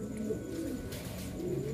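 A breeder pigeon hen of an imported line coos softly, a low steady murmuring call close by, heard alone without talk.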